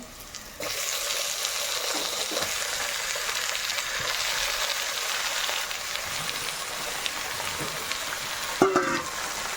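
A kilo of chicken drops into a hot pan for a village-style Kerala chicken curry, setting off a loud, steady sizzle that holds close for the whole stretch, with a brief clatter of stirring near the end.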